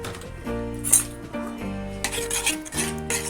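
Metal utensil stirring and mixing a fish curry made with mustard oil and green chillies in a pan, with several scraping and clinking strokes at an uneven rhythm, close and moderately quiet.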